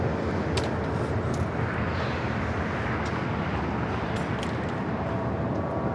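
A jet airliner lands and taxis at LAX, making a steady, broad engine roar that holds level throughout with no talking.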